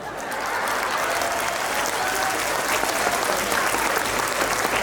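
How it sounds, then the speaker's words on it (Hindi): Loud, dense applause from an audience at a live Himachali comedy show during a Shivratri event, continuous and close, filling the whole stretch without a break. "और जिन्होंने मेरे लिए तालियां मारी हैं"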